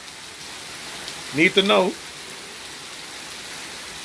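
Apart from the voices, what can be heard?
rain on a stormy day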